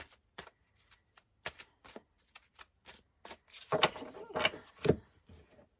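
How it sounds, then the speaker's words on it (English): A deck of cards being shuffled: scattered soft taps and riffles, then a louder burst of rapid fluttering riffles near the end. "So here's the deck. And I'm just going to shuffle."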